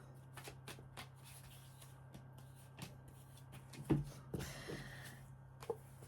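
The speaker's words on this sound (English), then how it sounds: "Give the cards a good shuffle." Quiet tarot cards being shuffled, with soft riffling and a few sharper taps and slaps, close and alone.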